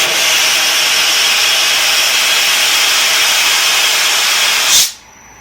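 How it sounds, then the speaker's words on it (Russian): Excess steam hisses loudly and steadily as it is released from the jacket of a moonshine still used for rice mash, holding for several seconds before cutting off abruptly, with no voices. "Спустим лишний пар."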